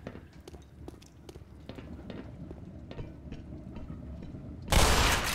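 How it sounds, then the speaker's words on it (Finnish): A single loud shotgun blast from the Black Mesa video game, bursting out near the end after several seconds of low, quiet in-game ambience with faint scattered knocks. "Hyvä, että tuolla tekstityksessä on haulikon laukaus."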